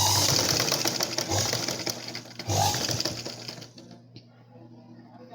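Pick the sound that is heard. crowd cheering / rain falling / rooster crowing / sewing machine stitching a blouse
sewing machine stitching a blouse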